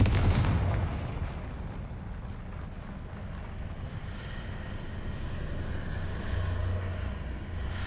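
A Confringo fire spell in Hogwarts Legacy bursts with a loud blast up front, then rumbles on as a dense, crackling roar that holds steady for several seconds.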